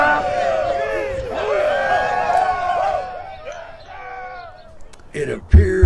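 Wild crowd cheering and shouting in a game stream, a dense, loud roar of many voices with yelps on top, easing off midway before a few sharp bursts near the end.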